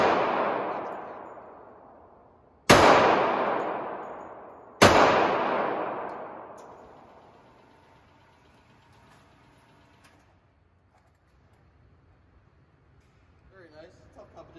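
HK USP .45 pistol fired at an outdoor range, three loud sharp shots spaced a couple of seconds apart, each leaving a long decaying echo, then quiet with faint voices at the end.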